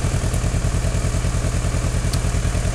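A motorcycle engine idles steadily nearby during an electrical test, a rhythmic low chugging putter with a faint mechanical clatter, constant in level and alone.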